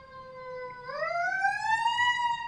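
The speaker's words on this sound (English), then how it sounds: "There's another siren." An emergency vehicle siren wails outdoors with a steady tone that rises in pitch partway through, loud and continuous with no talk over it.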